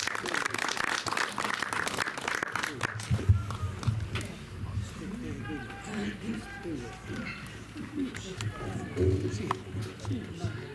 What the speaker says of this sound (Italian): William Simula, un applauso.